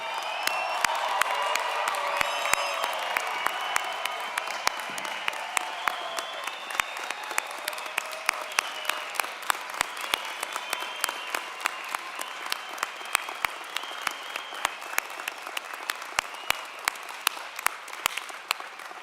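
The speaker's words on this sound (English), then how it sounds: "give a rousing hand, a round of applause for every single graduate" A law school commencement crowd applauds its graduates with a long, loud round of clapping and scattered cheers and whoops, the clapping thinning into sharper individual claps over time.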